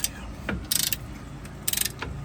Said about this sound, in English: I'm going to use my 21 mil socket and pop off the top bolt. Loosen the bottom bolt.